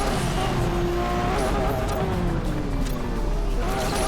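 Racing car engines roar steadily with rising and falling whine in the racing game Asphalt 8, with some talking underneath.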